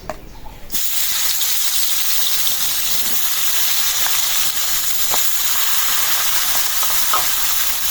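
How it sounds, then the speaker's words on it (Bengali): Turmeric and chili powder frying in hot oil, a steady loud sizzle that starts abruptly and hisses on evenly with a few faint clinks. "হলুদের গুঁড়া মরিচের গুঁড়া তেলটা গরম হয়ে গেছে দিয়ে দিই"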